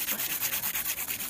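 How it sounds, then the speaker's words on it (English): A file rasps lightly over the surface of an acrylic nail extension in quick, even back-and-forth strokes, about a dozen soft scratching passes, close and quiet with no talk. "I'm holding the nail and I'm looking down the barrel as I file, and I'm very lightly going over the surface"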